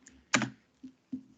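Three separate keystrokes on a computer keyboard while entering values at a command line, close and fairly quiet, the first sharper and louder than the two soft taps that follow.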